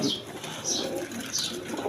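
Pigeons at a pigeon farm: soft, faint cooing and a few thin chirps over low background noise in a brief moment.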